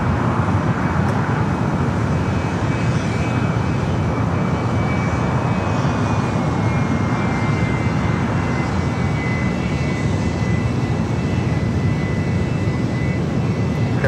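An airliner takes off from runway 25 right at LAX, producing a loud, sustained engine roar with a faint high whine held steady throughout.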